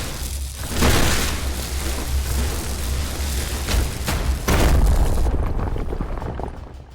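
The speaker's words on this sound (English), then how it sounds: "The explosion destroys the tunnels." An explosion destroying tunnels in the video game Shardpunk: a heavy, sustained rumbling blast with a second surge of roaring debris midway, loud and full before tapering off.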